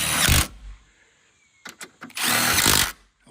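Power drill tightening screws on Ford Escape plastic trim, two short whirring bursts separated by a pause with small clicks and taps between, close and loud.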